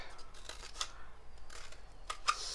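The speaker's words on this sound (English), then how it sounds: "let's see what happens if I take a toilet paper roll and I cut" Scissors snipping into a cardboard toilet paper roll, several short crisp cuts spaced out over a couple of seconds, close and fairly quiet, with no talking.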